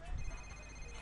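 A phone rings in the video game GTA IV, a faint steady electronic ring tone running through the short moment while a low voice murmurs underneath.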